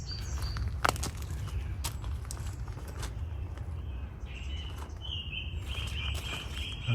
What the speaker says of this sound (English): the birds start singing their even song